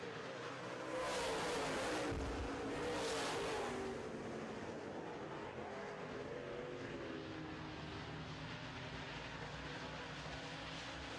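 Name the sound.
late model race cars racing in a heat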